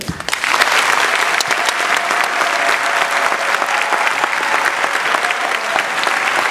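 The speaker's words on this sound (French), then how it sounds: "je vous invite à souhaiter la bienvenue au docteur avec un applaudissement chaleureux" A crowd giving a warm, sustained round of applause to welcome Dr Denis Mukwege at an event for eastern DRC, a dense, even roar of clapping that runs loudly throughout.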